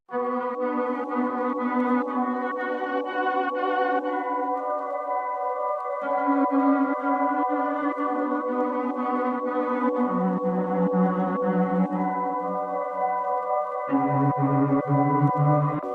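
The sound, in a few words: pitched-down violin sample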